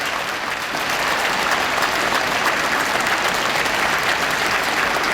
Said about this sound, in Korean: 공연이 끝나고도 한참 동안 이어지는 박수.